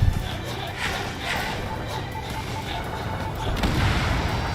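Missile explosions destroying targets in the video game Ace Combat 7 form dull, rumbling booms over a steady jet engine drone, with a brief tonal beep and scattered impacts throughout.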